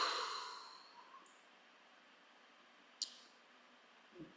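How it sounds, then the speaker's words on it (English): A long, deep exhale during a guided breathing exercise, strongest at the start and trailing off softly, followed by near silence with a faint click and a small breath at the end. "Exhale all the way down."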